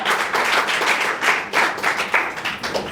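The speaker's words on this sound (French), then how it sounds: "Applaudissez très bien pour nos partenaires." A studio audience claps for the sponsors at the finale of a televised talent competition, steady rhythmic clapping in bursts, fairly close and continuous throughout.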